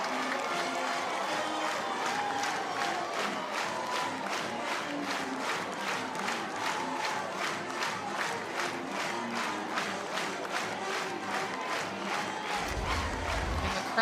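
Stadium crowd at an NCAA softball game, Alabama against Middle Tennessee, roaring and cheering as Dowling comes up to bat. The roar is loud and continuous, with no break across the whole stretch.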